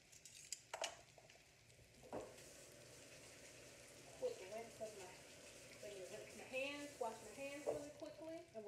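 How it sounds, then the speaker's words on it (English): Salmon fillets laid seasoned side down into a hot buttered pan, crackling into a growing sizzle after a few clanks of the pan, with a voice talking over it. "we're going to take our fillets and we're going to lay them in the pan, season side down"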